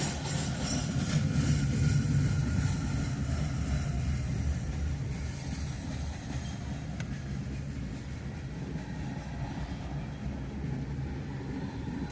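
A freight train with Conrail gondola cars rolls past on a hot day, a steady broad low rumble of wheels and cars that stays fairly loud throughout without any voices.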